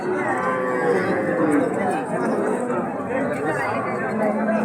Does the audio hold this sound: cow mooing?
yes